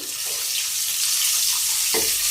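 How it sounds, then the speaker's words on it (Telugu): Cut boiled eggs fry in hot oil with a loud, continuous sizzling hiss, broken by a few soft knocks and one clearer clunk near the end. "ఇప్పుడు మనం ముందుగా కట్ చేసి పెట్టుకున్న ఎగ్స్ని కూడా ఈ ఆయిల్లో వేసుకోండి"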